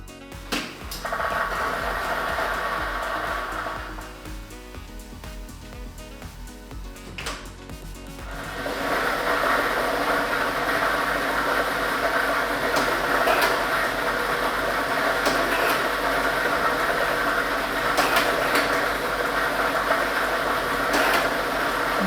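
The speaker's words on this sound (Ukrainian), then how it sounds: "Тиражна комісія до початку гри довільно обрала лототрон А комплект кульок номер 3 І ми вмикаємо лототрон" A lottery drawing machine with ball set number 3 starts up, and the balls tumble and rattle in a loud, dense, continuous clatter that builds and then holds steady.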